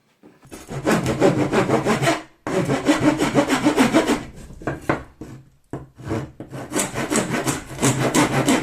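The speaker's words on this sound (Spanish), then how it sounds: "Pueden usar una escofina." A rasp scrapes back and forth across wooden dowels in steady, rhythmic strokes, close and loud, pausing briefly between passes.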